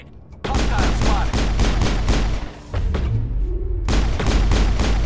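Rapid, loud gunfire from a shooter game in Mass Effect, dense bursts of shots nearly filling the clip with a brief pause midway before the firing resumes.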